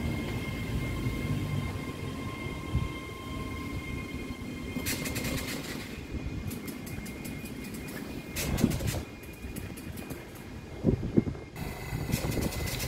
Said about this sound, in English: So far now we've got the 14:30 ScotRail service from Glasgow Queen Street to Dunblane.